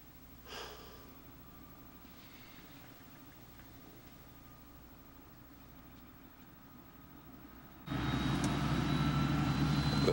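A helicopter in the Nevada wilderness of the north, its engine droning steadily at a distance and then swelling suddenly much louder and closer near the end, with no voices.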